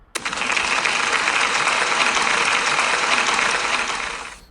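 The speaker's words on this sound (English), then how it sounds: "So can we give Rebecca a big round of applause, please?" A school audience at a celebration assembly breaks into applause, a loud, dense wash of clapping that starts abruptly, holds steady for about four seconds, and tapers off at the end.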